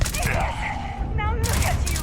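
Gunfire in the sci-fi video game Starfield, a burst of rapid shots and cracks over a dense game soundscape, with a voice talking over it.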